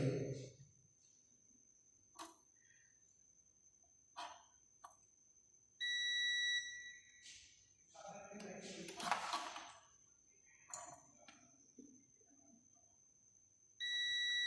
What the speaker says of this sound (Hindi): ऑन हालत में आप ये देखें तो इसमें से कौन सी वायर बजर कर रही है